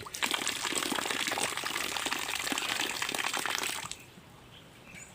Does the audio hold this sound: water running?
yes